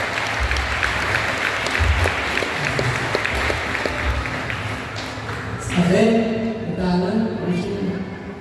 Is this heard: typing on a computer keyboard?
no